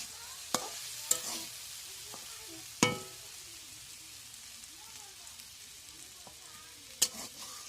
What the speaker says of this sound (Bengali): এই যে সরিষ নাড়াচাড়া করছে সুগন্ধি শাক